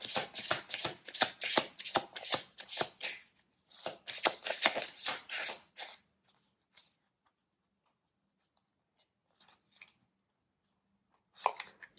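Tarot cards shuffled in a rapid, crisp riffle of flicks for about six seconds, then near silence broken by a few faint taps and a brief final rustle of cards.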